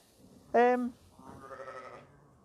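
A single loud, wavering bleat from a lamb close by, followed by a softer, quieter bleat.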